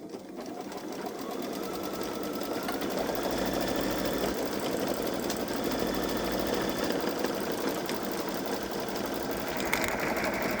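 A Babylock Solaris 3 Vision embroidery machine stitching a design, a steady close mechanical whir with fast rhythmic needle chatter running continuously without pause.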